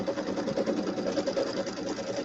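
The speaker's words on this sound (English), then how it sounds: "So we need to sew this out, and then we're going to place some fabric over that." An embroidery sewing machine stitches a fabric placement line, giving a steady, fast mechanical whir and rapid needle rhythm, close and moderately quiet, with no talking.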